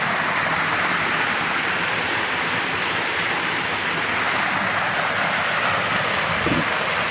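The Lajedo stream pours over a waterfall into natural rock pools, making a loud, steady, close rush of water with no break.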